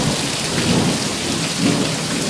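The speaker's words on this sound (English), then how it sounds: "Here's our rainy day." Heavy rain pouring down on a stormy day in Lubbock, a dense close wash of drops hitting surfaces with low rumbling swells underneath, no voices.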